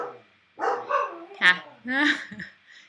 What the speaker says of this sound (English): my dad's dog, is such a barker